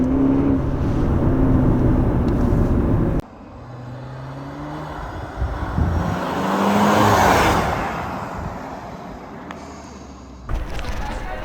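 A 2022 Maserati Levante GT Hybrid engine accelerates with its real, unsynthesised sound, a broad rising roar that swells loudly in the middle of the run and eases back, with louder cabin noise bracketing both ends.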